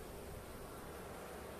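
Honeybees drone in a continuous, dense buzz at a hive in Trabzon in January, a steady close swarm hum with no voices.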